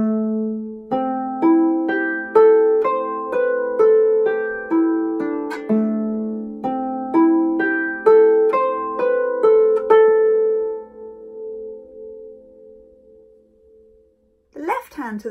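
Solo piano plays a right-hand melodic line, a steady run of clear, close note strikes in two similar phrases that ring and fade, followed by a brief burst of noise at the end.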